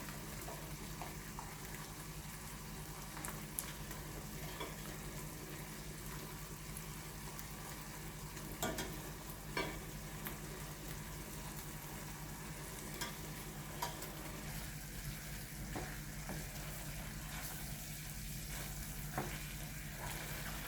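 Fettuccine pasta primavera with shrimp stirred in a hot pan, a steady quiet sizzle running throughout with occasional soft scrapes and clinks of the utensil.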